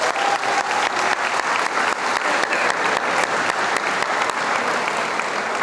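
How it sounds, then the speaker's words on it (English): School convocation audience giving a round of applause for the food service staff, a steady, full crowd clapping with sharp individual claps throughout, loud and continuous without talk. "I would like you to join me in a round of applause for Lori Paul and the food service staff"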